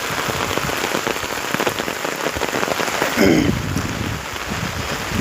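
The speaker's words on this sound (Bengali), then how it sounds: "কার কার ওদিকে বৃষ্টি হচ্ছে একটু কমেন্ট করে জানাবেন" Steady rain pattering on a surface close by, a continuous wash of drops with a brief swell partway through; no talking.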